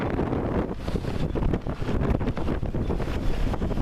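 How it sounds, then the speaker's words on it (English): Strong wind roars and buffets the microphone in continuous gusty rumbles, loud and close throughout. "It's a windy son of a bitch today."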